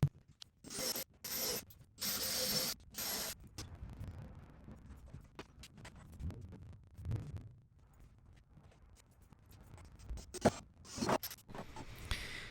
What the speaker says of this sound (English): I'm attaching that top piece with more glue and trim screws